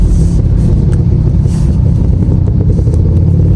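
Congested road traffic in the run-up to Christmas makes a loud, close, continuous rumble of car engines, with occasional revving swells and no speech.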